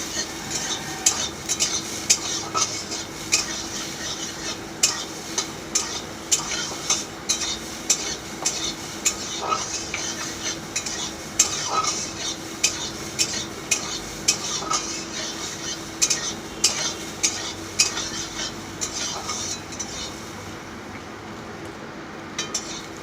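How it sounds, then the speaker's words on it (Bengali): Steady sizzle of food frying in a wok, with a spatula scraping and stirring in a quick, regular rhythm throughout. "ভালো করে ভাজা হলে তারপর নামিয়ে নিতে হবে"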